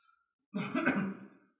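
A single short, rough cough, fairly close, in an otherwise quiet room.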